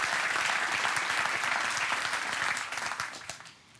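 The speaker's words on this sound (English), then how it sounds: "raise a very warm round of applause for all the partners that make this" An audience at a live Hyperloop reveal event gives warm, dense applause that holds steady and then tapers off toward the end.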